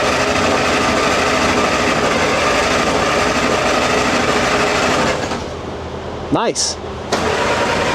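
An 80-year-old army Jeep engine is cranked by the starter, then fires and settles into a loud, steady mechanical clatter. A short word is spoken near the end.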